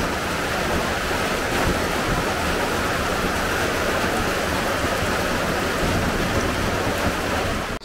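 Heavy rain pours down at Ernakulam Town railway station in Kerala, a dense, loud and steady roar of downpour that continues without a break.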